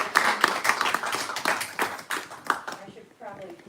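A small audience at a bookstore author reading claps in uneven bursts that thin out and fade over a few seconds, with a speaker's voice heard through the clapping toward the end.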